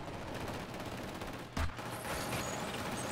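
Rapid bursts of Killzone Shadow Fall multiplayer gunfire and explosions crackle continuously, with one sharp loud blast in the middle, all fairly faint and distant.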